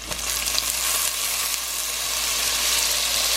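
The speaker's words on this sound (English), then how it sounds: "And then you're gonna throw in your garlic." Garlic and scallions sizzle steadily in a hot pan for vegan ramen, a loud, continuous bright frying hiss that holds at an even level throughout with no voices.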